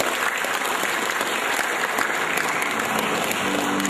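Steady, dense applause from a seminar audience at an Indonesian motivational talk, sustained at even loudness throughout with no pauses.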